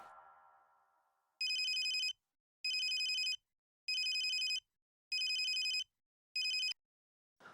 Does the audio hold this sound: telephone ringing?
yes